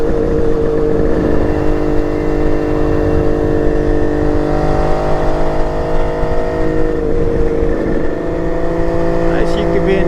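A carbureted motorcycle engine, cold-started with one kick, runs close and loud, idling with a throbbing, uneven beat and swelling through a few light revs before settling back down.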